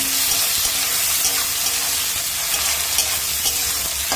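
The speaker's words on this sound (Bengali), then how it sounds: "এবার মশলাটা আমি ভালো করে কষিয়ে নেব।" Green chilli and chopped tomato fry with spices for a Katla fish-head and taro-leaf dish, giving a steady broadband sizzle with faint scraping stirs throughout, fairly close and unbroken.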